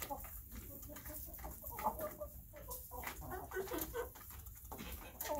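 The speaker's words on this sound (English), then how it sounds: "You can sure hear those roosters," Several young roosters crow and cluck at moderate distance on a farm, overlapping calls scattered throughout against steady outdoor background noise.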